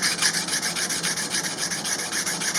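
A 600-grit diamond file flattens and deburrs the edges of a metal part in quick, steady back-and-forth strokes, a close, bright rasping scrape repeating evenly with no talk.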